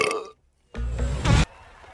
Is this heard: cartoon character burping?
yes